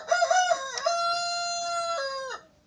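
A farmyard rooster crows once at close range, a loud, drawn-out cock-a-doodle-doo with a stuttering start and a long held note that breaks and then trails off.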